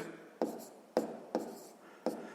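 A pen writes numbers on paper while a sixth-grade math problem is worked out, giving four short, crisp scratching strokes at uneven intervals, close and fairly quiet.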